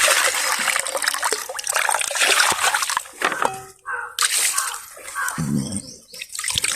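Tap water runs and splashes while fish are washed, a close, steady gushing stream that briefly dips and returns, with some talking over it.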